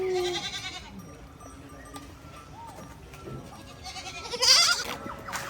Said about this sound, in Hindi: छोटे से बच्चे ने पकड़ ली है बकरी